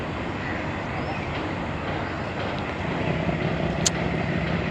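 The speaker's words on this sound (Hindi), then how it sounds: "ट्रेन पहुंच चुकी है हिटाची लोकोमोटिव के साथ और थ्रू पास कर रही है।" A Pakistani passenger train hauled by a Hitachi locomotive passes through a station, a steady broad rumbling wash of wheels and engine at moderate distance, with a short sharp squeal near the end.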